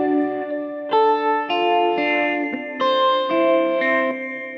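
A sustained, bright synth-like tone plays through a reverb plugin with EQ shaping the reverb, heard as a run of held harmonic notes that change pitch every half second or so, with lingering washy tails and no talking.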